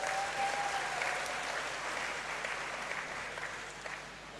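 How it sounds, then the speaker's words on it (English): Graduates at a university congregation ceremony in a great hall clap for themselves, a dense, steady wash of applause from a large crowd that holds throughout and fades slightly toward the end. "Please clap for yourself."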